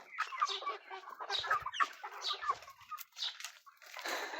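Chicks and ducks cluck and peep continuously while feeding from a long trough on a farm, a busy overlapping chorus of close bird calls with no talking.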